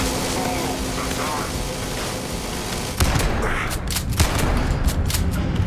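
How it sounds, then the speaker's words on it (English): Shotgun blasts ring out in Starfield combat amid continuous noisy battle din, with a sharp loud burst near the midpoint followed by several more close, punchy reports. "Right, shotgun time."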